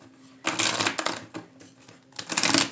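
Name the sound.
shuffling tarot cards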